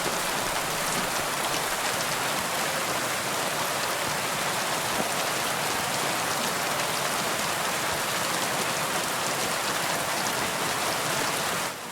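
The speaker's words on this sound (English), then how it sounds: "So let's run through the city in the rain." Steady rain falls across a medieval city in Kingdom Come Deliverance 2, a dense, even hiss of drops on roofs and streets that holds at constant loudness throughout, with no voices.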